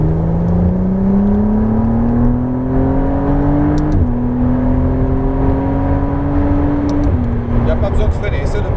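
A McLaren Artura accelerates hard at full throttle with a loud, close engine note. The pitch climbs steadily, breaking twice where the gearbox shifts up, and keeps pulling the whole time.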